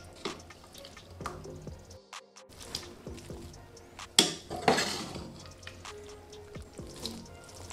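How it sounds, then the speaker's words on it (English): Cooked spaghetti for carbonara drained in a kitchen, with scattered drips, water splashes and light clatter of a pot or colander, a sharper burst of pouring water midway, close and moderately loud with no speech. "Now you want to drain the pasta, but not too much."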